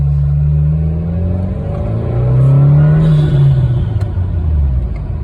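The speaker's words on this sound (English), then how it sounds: "I'm going to go with second gear, kind of do a little second gear pull." A 2022 Subaru WRX's muffled ETS exhaust drones and rises in pitch as the engine accelerates through second gear, a loud, close, steady rumble heard from inside the car.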